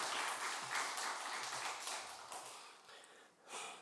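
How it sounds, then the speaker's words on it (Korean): Church congregation applauding a speaker during a Korean worship service, steady mid-distance clapping that gradually thins and fades toward the end with a brief late swell. "크게 박수로 축복하겠습니다"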